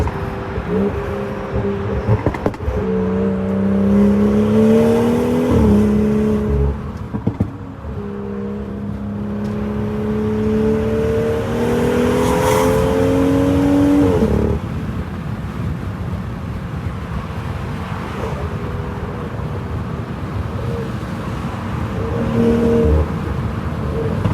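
A stage 2 tuned BMW 540i with a B58 engine revving hard while driving at night, rising and falling pulls over steady road rumble, loud and close from inside the car.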